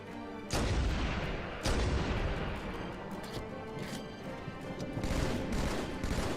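Gunfire in a modded Halo 2 match, with two sharp heavy shots followed by a continuous clatter of rapid fire and booming impacts, loud and close throughout, with no voices.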